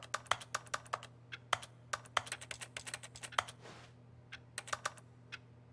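Rapid clicking of keys on a typical office keyboard in The Stanley Parable game, an irregular burst of close, crisp keystrokes with a short gap near the end, over a low steady hum and with no talking.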